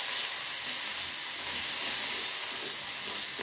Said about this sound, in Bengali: মশলাটা আমার ভালোভাবে ভাজা হয়ে গেছে